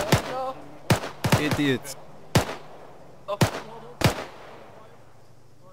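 Gunfire in Arma 3: six sharp, loud shots fired singly and in a quick pair at irregular intervals, each cracking out over a low steady hum, with a voice speaking between them.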